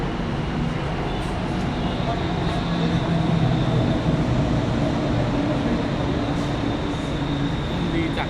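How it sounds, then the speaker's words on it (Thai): Bangkok skytrain and maintenance train pass each other, producing a steady loud rumbling roar with a constant mechanical hum that holds throughout, with no talking. "มองตรงนี้ก็จะเห็นเนี่ยรถไฟฟ้า แล้วก็รถซ่อมบำรุง สวนกันตรงนี้เลย"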